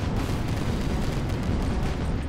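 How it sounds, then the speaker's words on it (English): Explosions in the airship combat video game Guns of Icarus, a dense continuous roar of blasts and rumbling booms filling the mix, loud and sustained. "Lots of explosions."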